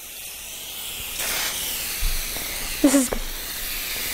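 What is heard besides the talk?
spraying cooking spray into a cake pan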